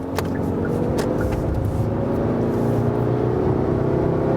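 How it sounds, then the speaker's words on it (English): A Hyundai Santa Fe Sport diesel engine pulls hard in third gear from 70 to 100, a loud, rising drone heard from inside the cabin with steady road noise and no talking. "The diesel doesn't sound that modern. It's quite loud actually."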